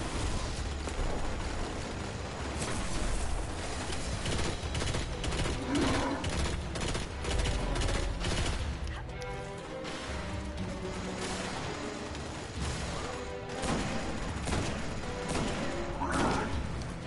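Gunfire from headshots in the video game Destiny, a dense rapid clatter of shots and impacts running throughout amid busy battle noise, with no talk over it.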